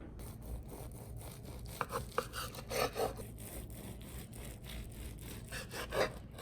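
A serrated Wusthof knife saws back and forth through smoked meatloaf, a steady series of close, rasping strokes with a few sharper cuts standing out near the middle and end.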